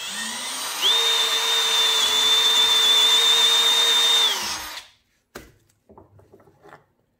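Schedule 80 PVC pipe glued into a fitting being reamed out with a power tool: a steady, loud whine runs for about four seconds before winding down, followed by a few faint knocks and handling sounds.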